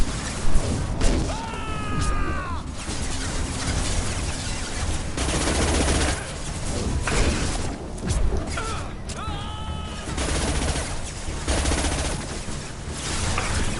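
Gunfire in the video game Mass Effect Legendary Edition, with repeated sharp shots and bursts over a continuous game soundscape, plus a couple of whining electronic sweeps.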